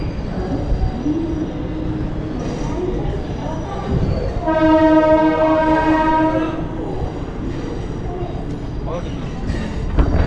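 The Tirupati to Vasco da Gama express train rumbles along steadily, and a loud horn sounds for about two seconds partway through over the continuous rolling noise.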